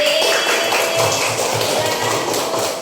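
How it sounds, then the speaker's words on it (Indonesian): A classroom of children applauds together, a dense burst of steady clapping with a few stronger rhythmic claps, sustained for about three seconds. "Kasih aplaus."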